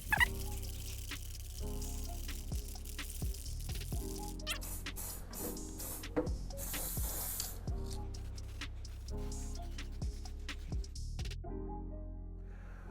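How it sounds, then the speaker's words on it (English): Bursts of aerosol spray paint hiss in short repeated blasts as coats go onto a Traxxas Slash RC car shell, with light rattles and handling noises between passes, fairly close. "let's get another coat of paint on"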